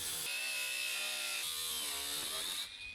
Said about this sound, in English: I can't use the Sawzall, I have to use the grinder on the bottom